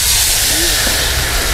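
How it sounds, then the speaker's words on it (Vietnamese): Bánh xèo batter hits a hot pan over a strong fire in a rural countryside kitchen hut, a loud, steady sizzling hiss filling the whole moment, with a brief voice murmur. "Này cái xèo nữa nè nghe"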